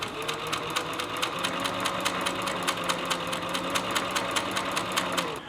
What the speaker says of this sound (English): This is one of those times where a cylinder arm machine is awesome, because you can do stitches like this.